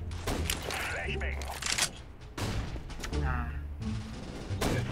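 Rapid bursts of gunfire crackle in quick volleys in Counter-Strike: Global Offensive, mixed with game effects and a voice talking over the action.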